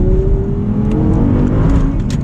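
A manual Audi R8 V10 accelerating, heard close from inside the cabin as a loud, steady engine roar with rising tone and constant road and wind noise throughout.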